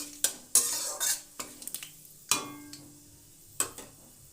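Dry red chilli, a pinch of five-spice seeds and a bay leaf stirred in hot oil, with scattered metal scrapes and clinks of a spoon against the pan over a soft sizzle, the clatter arriving in sharp separate bursts.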